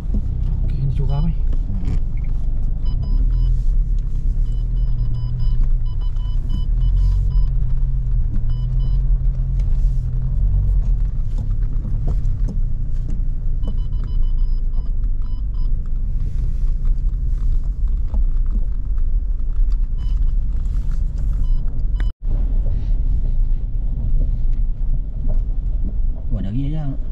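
A car engine rumbles steadily as the vehicle climbs a steep track at Bukit Berapit, a low continuous motor drone with faint voices beneath it and a brief dropout near the end.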